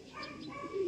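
Racing pigeons coo at a derby race, one brief low throaty coo close by against a soft background.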